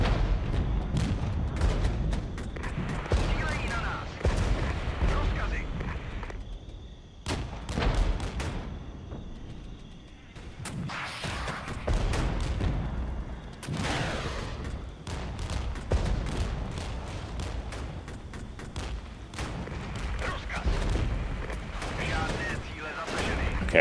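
Gunfire and artillery in a Regiments video game battle with BMPs under fire: dense, loud, overlapping bursts of shots and booms that continue nearly nonstop, with a few brief lulls.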